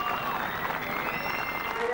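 A crowd at Monza applauds after a win in a 2001 FIA Sportscar Championship race, a dense and steady wash of clapping that fills the whole moment, with a commentator's voice running over it.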